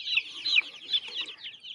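A small group of chicks, being moved from the brooder out onto grass, peep and cheep continuously in high, thin chirps, close by and fairly soft.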